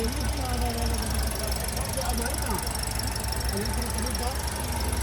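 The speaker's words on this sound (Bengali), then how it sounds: "দেখেন আপনার ইঞ্জিনের সাউন্ডটা" A 2021 Toyota Yaris engine idles with a steady low hum and faint mechanical ticking, holding an even level throughout, with voices murmuring in the background.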